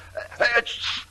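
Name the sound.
sneeze in a radio drama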